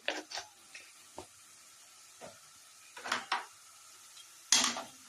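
A spoon stirs carrot payesh in a metal pot, giving scattered sharp clinks and scrapes close by, irregularly spaced with quiet gaps between them.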